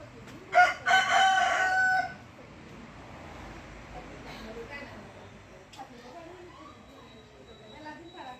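A rooster crows loudly and clearly on a farm, one strong crow near the start, followed by quieter clucking of hens and soft background talk for the rest.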